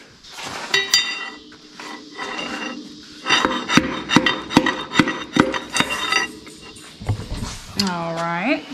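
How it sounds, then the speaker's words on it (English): Pistons tapped out of a hydrolocked 6.0L LS engine during teardown: a steady series of about eight sharp metallic knocks after some scattered clinks, with brief voices and clatter around them. "let's tap those two pistons out first"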